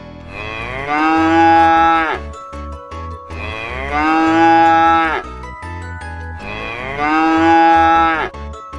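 A cow moos three times, each low, drawn-out call lasting about two seconds, loud and close, with brief quiet gaps between them.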